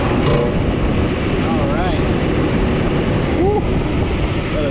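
A Greenheck centrifugal exhaust fan, just repaired and switched on, runs with a steady, loud broadband roar of rushing air that holds for the whole stretch, with faint voice-like tones drifting underneath.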